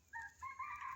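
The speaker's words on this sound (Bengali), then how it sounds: "বনমোরগের ডাক শোনার জন্য জঙ্গলে আইছি।" A wild junglefowl rooster crows in a misty forest at dawn, a short two-part call that sounds faint and distant, with quiet surroundings.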